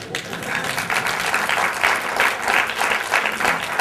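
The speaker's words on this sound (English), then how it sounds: "I can listen all of them clapping." An audience claps steadily, a dense patter of many hands swelling and easing slightly in waves, with no voices over it.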